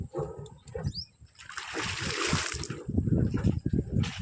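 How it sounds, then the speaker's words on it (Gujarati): Water splashes and pours in a rushing burst midway, framed by knocks and gurgling splatter before and after. "અને જો અહીંયા પાણી આવી ગયું છે"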